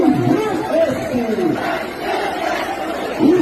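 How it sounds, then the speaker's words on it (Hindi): A large crowd of protesters on a road in Tinsukia, Assam chant and shout together in rising and falling waves, loud and close, with voices overlapping throughout. "तो बेतहाशा भीड़ सड़क पर उतर आई है।"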